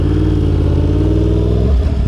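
A Yamaha R1 sport motorcycle engine rumbles loud and close with a low, lumpy gurgling burble, its pitch dipping slightly toward the end.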